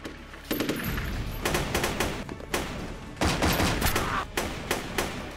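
Gunfire in a war-film firefight between two forces, with dense bursts of automatic rifle fire and single sharp shots cracking in a fast, uneven rhythm. It is loud and close, with no voices.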